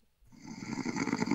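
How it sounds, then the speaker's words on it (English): A snoring sound effect, one long rasping inhaled snore that rises from silence and grows louder with a fluttering, rattling texture, close and alone. "Is that a snoring sound effect?"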